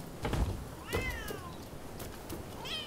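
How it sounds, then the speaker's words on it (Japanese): A cat meows a few times in the video game Rise of the Ronin, with short rising and falling cries spread over about three seconds over soft game ambience, fairly close and clear. "え、猫かわいい。"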